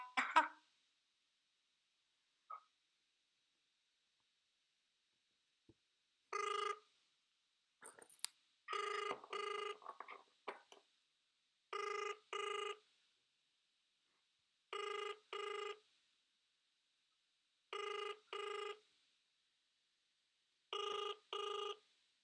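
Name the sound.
telephone ringing unanswered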